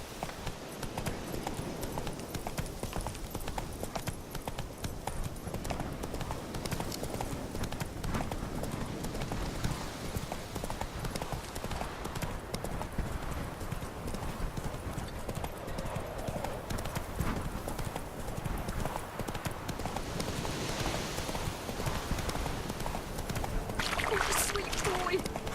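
The horse Roach galloping in The Witcher 3, continuous rhythmic hoofbeats throughout at a steady pace, close and fairly loud, with voices and game sounds over it.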